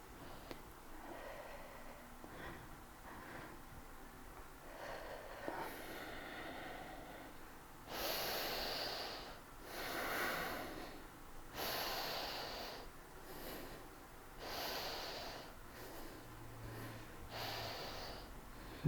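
Slow, deliberate breathing during a core and abs workout, with a series of long, airy exhales spaced a few seconds apart, close and clear over a quiet background.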